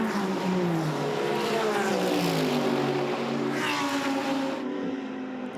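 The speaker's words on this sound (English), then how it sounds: "Lovely soundtrack, GT3 racing, so many different power plants, different sounds, naturally aspirated versus forced induction" GT3 race cars roar past on track at the GT World Challenge America, a mix of naturally aspirated and turbocharged engines droning loudly, with pitch sweeps as cars pass and one fading away at the end.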